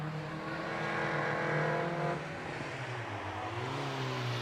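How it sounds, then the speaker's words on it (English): A Caterham Super 7 with a 1600cc engine on a hill climb run, its engine droning loud and steady with a rising then falling pitch as it passes, alone without talk. "off goes Andrew Wilcox in a Caterham Super 7, again 1600cc"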